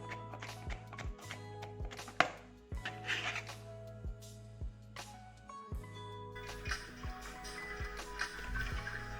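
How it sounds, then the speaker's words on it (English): A knife chops two garlic cloves on a cutting board in a run of quick, light taps with short pauses, under soft background music. "Then chop 2 cloves of garlic."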